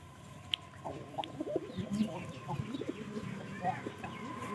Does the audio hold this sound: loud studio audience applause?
no